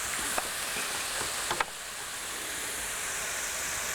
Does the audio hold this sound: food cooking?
yes